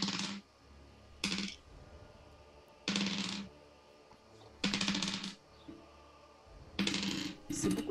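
Several handfuls of dice tumble and clatter across a tabletop during a game, arriving in repeated loud bursts of rattling separated by brief pauses, with no talk over them.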